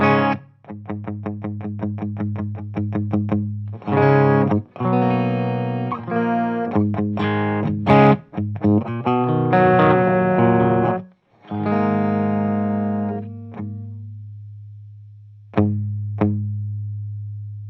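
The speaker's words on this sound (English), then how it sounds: "I just want to show what the clean channel sounds like with the gain max" An electric guitar through a cranked ENGL Savage 120 Mk1 amp, clean channel with gain maxed, plays chords and single notes with a gritty, slightly overdriven edge, ringing out with pauses between phrases.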